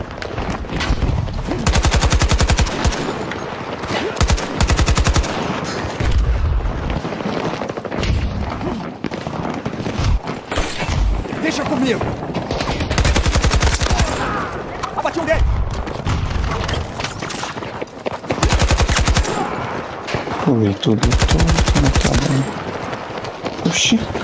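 Rapid bursts of automatic gunfire and booming shots from Battlefield 2042, including an AK-24, dense and loud throughout, with a voice talking over the action.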